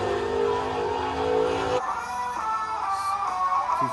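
A racing truck engine in a Bristol truck racing video game roars loudly, winding up in pitch, then drops abruptly as the driver shifts and builds speed again.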